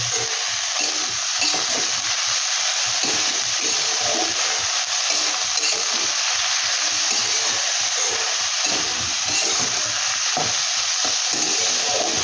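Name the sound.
fenugreek leaves frying lightly in a pan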